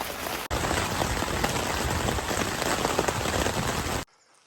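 Steady heavy rain from a storm pours down at a riverside campsite in northwest Wisconsin, a dense continuous hiss that cuts off abruptly at the end.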